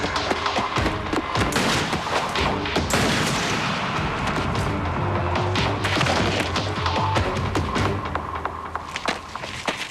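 Dense gunfire from a television drama scene, many loud overlapping shots and crashing impacts in rapid irregular bursts, filling the whole stretch with little pause.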